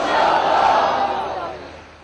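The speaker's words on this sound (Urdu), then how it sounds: "اپنی نیت کا اظہار انشاءاللہ کے بلند شگاف نعرے سے لگائیے" A congregation raises a loud, massed chant of Inshallah, a dense roar of many voices that swells, holds, then tapers off over about two seconds.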